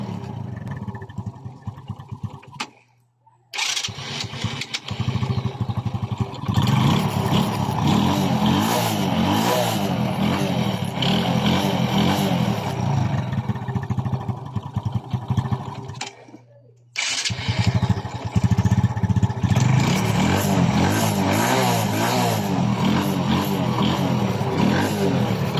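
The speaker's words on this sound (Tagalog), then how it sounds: "Mabilis umaksyon ang kanyang starter. Kumandar agad, no?" A Kymco Visar 110 motorcycle, one with an intermittent running fault, is cranked and fires up at once, then runs with a loud, throbbing idle and revving. A brief silence interrupts it twice, and a voice speaks faintly at points.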